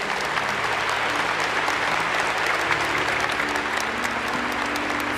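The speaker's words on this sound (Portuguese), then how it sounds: "Vamos aplaudir a palavra." Sustained, dense applause from a large crowd at a Catholic Mass, after the Gospel reading, loud and steady throughout without a break.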